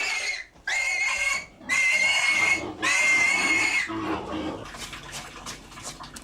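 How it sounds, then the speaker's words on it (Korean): Pigs at slaughter after the rice harvest in a terraced-field farming village squeal loudly in three long, shrill bursts, then trail off into rougher, fading grunts and squeals. "추수가 끝나면 마을은 닭이나 돼지 잡는 소리로 부산하다."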